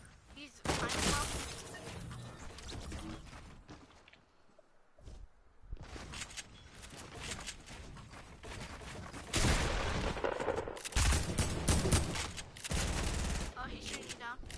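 Rapid bursts of gunfire and shotgun blasts in a console shooter duos match, loud dense volleys broken by short quiet gaps, with players talking over the action.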